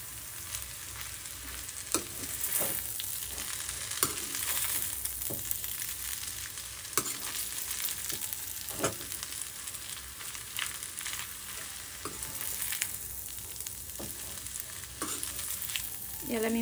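Spiced chowmein noodles are stirred and fried in a pan, giving a continuous loud sizzle with regular spatula scrapes and clicks throughout, with no voices.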